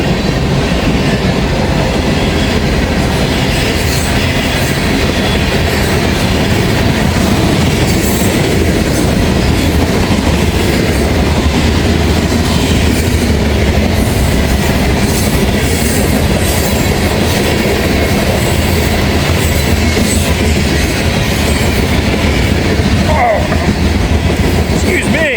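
A freight train rolls past on railroad tracks in Walton or Richwood, Kentucky, a loud continuous roar of wagons with rhythmic clickety-clack of wheels over rail joints, close by and steady throughout, with a brief wheel squeal near the end.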